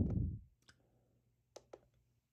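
A computer mouse is clicked while opening files from a trail camera. After a soft low thump come three quiet, sharp, isolated clicks close by, with the last two in quick succession and no voices.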